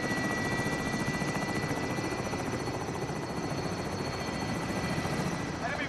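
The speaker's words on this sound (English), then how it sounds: "The chopper coming in?" Helicopter rotors beat loud and continuous as a chopper comes in during an online Call of Duty Modern Warfare match, a dense chopping drone with whining turbine tones that stays close and steady throughout, voices faintly mixed in.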